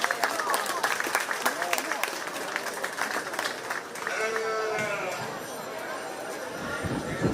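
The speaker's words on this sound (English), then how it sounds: "Let's give these three young individuals a big round of applause." Audience applause at a county fair 4-H sheep and goat show, a burst of crowd clapping that carries on for several seconds with chatter and talk mixed in.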